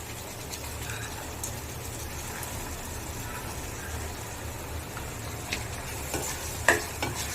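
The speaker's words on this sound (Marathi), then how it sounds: "म्हणजे आपले हिरवे वाटाणे आणि बटाटा आपण आता टाकून देऊ याच्यामध्ये." Green peas and potatoes go into frying masala for aloo matar bhaji, giving a low steady sizzle with faint scraping and a few light clinks from stirring in the pan, quiet and close.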